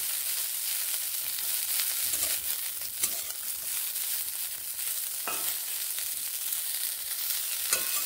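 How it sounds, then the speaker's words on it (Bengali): Broccoli florets frying in a pan give off a steady, close sizzle that holds for the whole stretch, with a few sharp crackles and pops standing out now and then. "ব্রোকলিগুলোকে এইভাবে বেশ ভালোভাবে ভেজে নিচ্ছি।"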